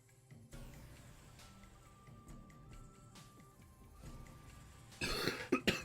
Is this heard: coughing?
yes